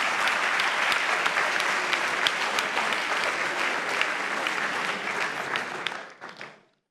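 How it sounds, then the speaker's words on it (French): A crowd applauds steadily for several seconds, dense clapping with a few sharper claps standing out, then it quickly dies away. "Applaudissez-la."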